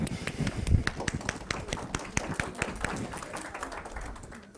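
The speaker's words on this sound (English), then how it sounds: "Give her a round of applause." Audience clapping after a talk, a dense patter of many hands with a loud early burst that gradually thins and fades toward the end.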